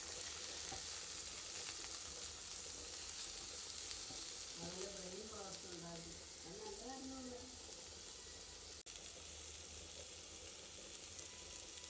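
Sliced onions and chopped tomato sautéing in a pan of oil during prawn dry fry preparation, with a continuous soft sizzle throughout and a brief voice partway through.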